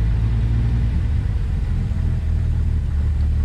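A vintage Rolls-Royce 20 car engine runs with a loud, steady, close low rumble that holds evenly without pause.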